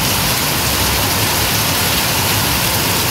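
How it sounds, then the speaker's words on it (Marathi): Heavy rain pours steadily over Deglur town, a loud, unbroken hiss that fills the space with no pauses or other sounds. "बऱ्याच दिवसाच्या प्रतीक्षेनंतर देगलूर या ठिकाणी पावसाची सुरुवात झालेली आहे आणि पाऊस खूपच जोराचा पडतोय"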